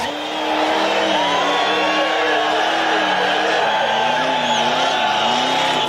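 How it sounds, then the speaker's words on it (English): At the Summernats car festival, a car doing donuts holds a loud, sustained engine roar with screeching tyre skid and wavering pitch as it circles. A crowd murmurs faintly underneath. "He's doing his donuts in a small part of the track"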